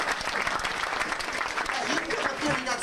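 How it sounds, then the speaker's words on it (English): Audience at a Ghostbusters stage show at Universal Orlando in 1996 breaks into sustained applause, dense steady clapping from a sizable crowd close by, with voices mixed in underneath. "give them all a real big round of applause for volunteering"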